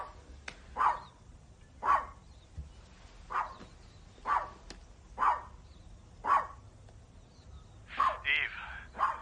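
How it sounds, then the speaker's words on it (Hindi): A dog barks in a steady series of about nine sharp, evenly spaced barks, close by, with a couple of quicker yips near the end. "भौंकना बंद करो"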